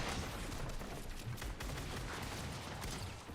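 Rapid, sustained gunfire from a first-person shooter video game during a headshot-only challenge, a dense continuous burst of loud shots with no pauses and no talking.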